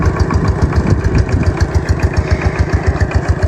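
A water pump machine's engine runs steadily nearby, a rhythmic, throbbing idle-like chug that stays constant throughout with no talk.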